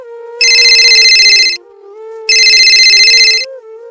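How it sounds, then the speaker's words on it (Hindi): A telephone rings twice, each a bright trilling burst about a second long, with a steady background tone underneath. "अगले दिन शकुंतला के पास गायत्री का फोन आया।"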